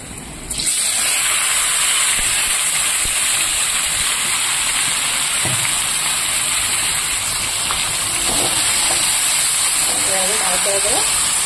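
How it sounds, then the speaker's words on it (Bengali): Chicken pieces go into a pan of fried potatoes, and a loud, dense sizzling hiss bursts in abruptly and roars on steadily up close, with a faint voice briefly underneath near the end. "এবার আমি এর মধ্যে মাংসটা দিয়ে দেবো।"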